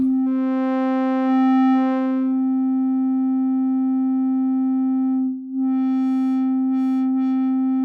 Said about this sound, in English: you know it's a sine wave because look at it, just the fundamental